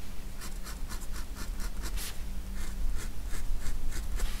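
A sharp-pointed tool presses indentations into drawing paper with a steady run of short, dry scratching strokes, close up and continuous over a low background hum.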